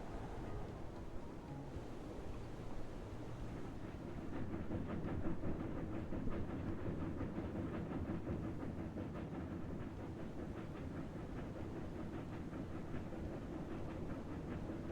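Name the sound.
train passing on rails in Railroad Corporation 2 video game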